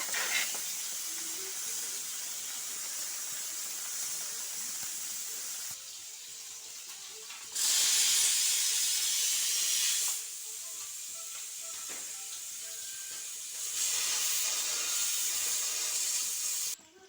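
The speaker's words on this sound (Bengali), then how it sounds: "ছোটো মাছগুলো আমি ভেজে নেবো তাড়াতাড়ি" Small fish fry in a pan of hot oil, a loud, steady hissing sizzle up close that rises and falls in intensity across several stretches.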